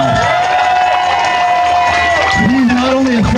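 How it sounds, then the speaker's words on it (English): An audience greets Rob Carbone with loud cheering and clapping, a dense crowd roar with whoops and shouts throughout, close and sustained without letting up. "Please give him a round of applause."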